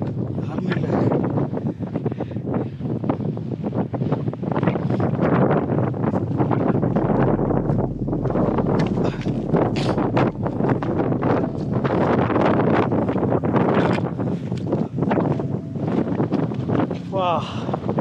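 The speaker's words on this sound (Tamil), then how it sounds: "எவ்வளோ காற்று அடிக்குதுன்னு காற்றை பார்த்தாலே தெரியுது." Strong wind sweeps across the Velliangiri Hills, buffeting the microphone with continuous loud, rough roaring and gusting that stays heavy throughout with no break.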